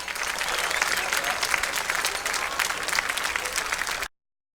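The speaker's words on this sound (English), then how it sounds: "a rousing applause for the sophomore from Cal Berkeley, who's smiling ear to ear" Baseball crowd at a Cape Cod League championship game applauding a pitcher as he leaves the field, a loud, continuous roar of clapping and cheering that holds steady, then cuts off abruptly.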